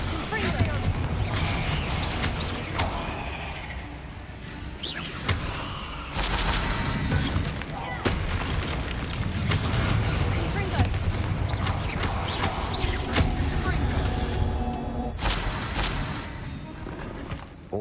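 Spell blasts from Hogwarts Legacy gameplay, the Confringo fire spell among them, thud and crackle in repeated bursts over a dense, busy game soundscape, loud and close throughout.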